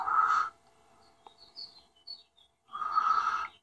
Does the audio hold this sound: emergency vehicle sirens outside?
no